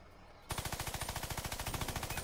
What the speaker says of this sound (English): Shoot it, Logan.